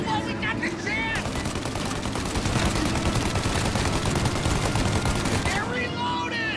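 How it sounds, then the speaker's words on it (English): Dense, continuous gunfire fills a shootout in the Mafia: Definitive Edition game, rapid overlapping shots forming a loud sustained barrage, with shouted voices faintly audible at the start and end. "Shoot now while we got the chance!"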